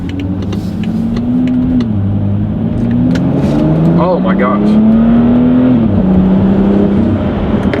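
A tuned BMW X3 35i SUV engine with an upgraded intake pulls hard in sport mode, its pitch rising steadily, dipping at a shift, then climbing again, loud and close, with a brief exclaimed voice over it.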